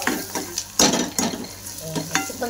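A paste of ginger, coconut, garlic and green chili sautés in a pan for a dry eggplant and potato dish, sizzling close by under repeated spatula scrapes and clinks at an uneven rhythm, with no talking.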